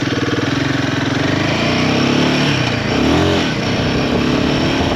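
A Royal Enfield Himalayan 450 motorcycle in performance mode, its single-cylinder engine throbbing with a pulsing, close exhaust note that swells briefly in a short rev before settling back to a steady beat.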